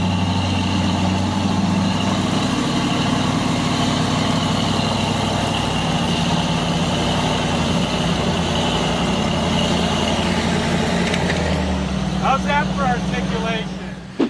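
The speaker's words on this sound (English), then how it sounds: "This extreme articulating vehicle has 7 feet of travel" Engine of an extreme articulating off-road vehicle with seven feet of suspension travel, droning steadily and continuously at close range, with a brief shift in tone near the end.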